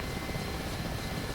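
Steady, rumbling Mi-8 helicopter rotor drone with a rhythmic chop in the video game DCS World, constant and loud throughout.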